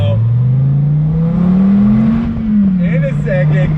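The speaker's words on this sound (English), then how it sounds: "pulling away from this light, on throttle" A Dodge Viper sports car accelerates away from a traffic light under throttle, its loud, steady engine drone rising in pitch and then easing back slightly, heard close from inside the car.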